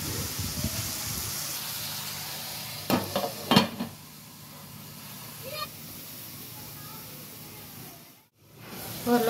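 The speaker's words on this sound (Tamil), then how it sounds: "ஒரு 5 மினிட்ஸ் நல்லா இந்த எண்ணெயில் வேகட்டும்." Turkey berries cook in hot oil with a low, continuous sizzle. Metal pan knocks and clatters come in a short cluster partway through, with quieter clinks later and a brief dip near the end.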